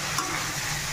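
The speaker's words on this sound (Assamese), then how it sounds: "আৰু ইপিনে বেঙেনা ফ্ৰাই কৰি আছোঁ" Brinjal slices fry in a pan with a soft, continuous sizzle and a faint stir or scrape, heard briefly and alone.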